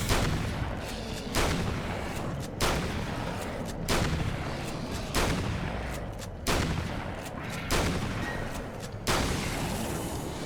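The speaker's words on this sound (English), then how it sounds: "I think it took all 8 shots, if I'm not mistaken, to put that guy down." Gunshots in the video game Alan Wake's American Nightmare, eight heavy booming shots fired at a steady pace roughly every 1.3 seconds, loud and close, each with a short rumbling tail.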